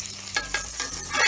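Burger patties sizzle in a hot pan while being flipped for homemade dog food, with a steady frying hiss and a few scraping spatula strokes, close and without talk.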